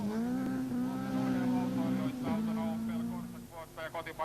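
A Mika Korhonen Opel Manta rally car runs a gravel special stage at a 1992 Finnish rallysprint championship round in Seinäjoki, its engine a sustained loud drone shifting pitch as it passes, with commentary heard over it.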